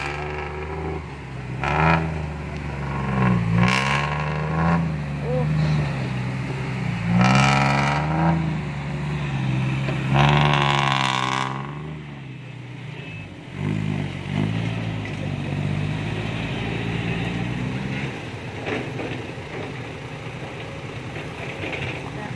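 A powerful six-wheel truck labours out of a pit, its engine roaring and revving in strained surges with creaks and mechanical clatter, voices talking over it; the engine eases and fades toward the end.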